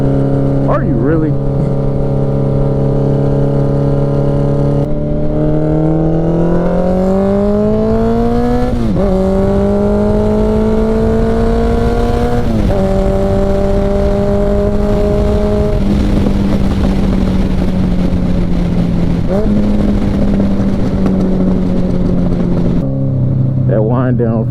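A Honda Nighthawk CB750 motorcycle engine drones loudly inside a tunnel, with a series of rev jumps and pitch drops as it downshifts, the echoing tone stepping down several times over heavy wind rush.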